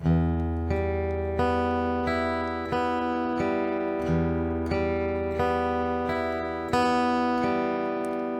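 A guitar plays a slow, simple tune on ringing open strings, one note about every two-thirds of a second, each note left to sustain into the next.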